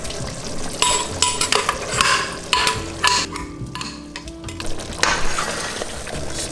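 Pumpkin puree stirred in a pot over heat for Miyan Taushe pumpkin soup, with soft scraping strokes and clinks of a utensil against the pot over a low bubbling sizzle, fairly close and steady.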